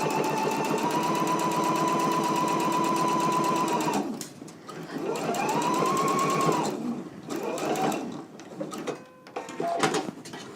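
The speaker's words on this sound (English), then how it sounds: "we can go ahead and stitch at a 5/8 of an inch seam allowance" A sewing machine stitching shoulder seams at a 5/8-inch seam allowance, a loud steady whirring run for about four seconds, then shorter bursts with stops between them.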